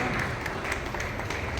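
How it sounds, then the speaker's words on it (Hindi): Audience clapping fills a short stretch at a comic poetry gathering held at a resort, a dense, steady wash of many hands with no voices over it. "जोरदार तालियों का प्यार एक बार फिर से।"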